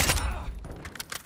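A short, loud burst of rapid gunfire in Call of Duty: Modern Warfare II, close shots cracking in quick succession and then fading into scattered lighter pops.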